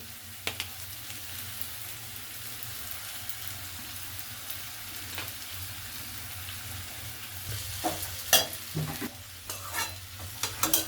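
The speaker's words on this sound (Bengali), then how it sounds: "চাউমিনটা অ্যাড করার পরে ভালো করে আমি এটাকে ওপর নিচে করে ভালো করে মিশিয়ে নেব" Boiled chowmein is tossed and stir-fried in a little oil in a pan, a soft steady sizzle under intermittent scraping and clacking of a spatula that grows busier toward the end.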